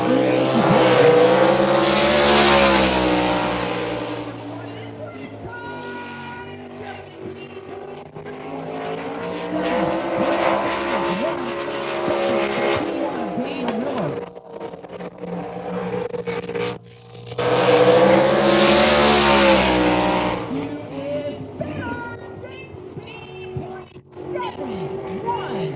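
Race cars lap a racetrack during a Southern Series qualifying session in Montgomery, engines swelling loud as they pass and fading away. A commentator talks over the engine noise.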